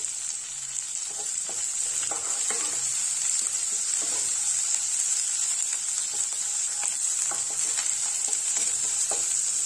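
Onions and green chillies sautéing in a pan, a constant soft hiss of frying broken by repeated stirring scrapes and taps of a spoon, close and without speech.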